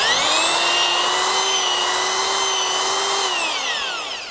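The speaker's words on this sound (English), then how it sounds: "Now the important thing with drilling is to make very slight up and down movement while you do the drilling." A loud power drill bores into soil, whining at a steady pitch, gradually lowering slightly as it bites in, then winding down at the end.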